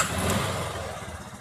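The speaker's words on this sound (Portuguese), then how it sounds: "motinha funcionando, motor silencioso" Yamaha Fazer 250 motorcycle engine idling after a cylinder and cylinder head rebuild, a steady, even running hum, close and moderately loud, with no knocking.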